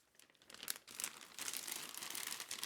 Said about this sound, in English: just sliding the bag away from the shoebox